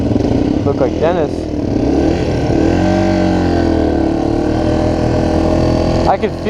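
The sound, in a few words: dirt bike engine running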